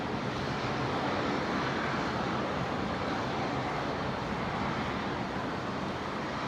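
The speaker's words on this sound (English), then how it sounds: "Now the 76 in the background there, just being cleared for takeoff on runway 19 right." Steady, broad jet roar of an airliner cleared for takeoff on runway 19 right at Brisbane Airport, heard from a distance as a continuous rumble and whoosh with no break across the span.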